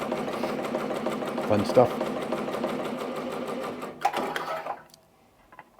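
A Ricoma MT 1501 embroidery machine sews a satin stitch with a fast, steady mechanical whir and rattle that stops near the end, with a person speaking briefly over it.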